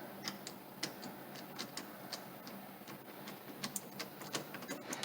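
Hose clamps on a Speed Queen commercial washer drain pump being tightened with a driver, quiet rapid irregular ticking and clicking close by.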